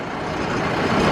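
A farm tractor runs nearby in cold wind, its engine a loud unbroken roar that swells slightly toward the end, with no one talking.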